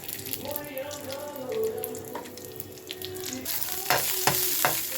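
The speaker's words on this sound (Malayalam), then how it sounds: "നമുക്കിത് രണ്ടും കൂടെ നെയ്യിലിട്ടൊന്ന് മൂപ്പിച്ചെടുക്കാം" Cashews and raisins fry in ghee in a pan for mango payasam, a steady close sizzle with stirring clatter and scraping that grows busier toward the end, with no talk.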